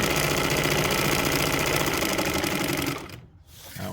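A Bernina 830 Record sewing machine runs a satin stitch with a steady, fast mechanical whir and rhythmic needle chatter, then abruptly stops and briefly restarts.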